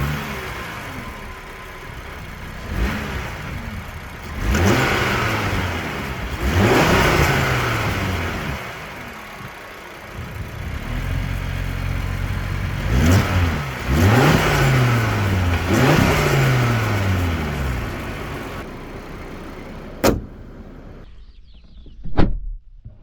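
A 2025 Audi RS3 saloon's 2.5 TFSI turbocharged five-cylinder petrol engine revs repeatedly in short rising bursts, heard up close with pauses between each sweep. A couple of sharp clicks follow near the end, with no talking.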